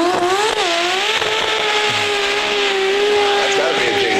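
A Japanese car engine revving smoothly, its pitch climbing and settling through sustained, steady rises, loud and close with a faint layer of background noise.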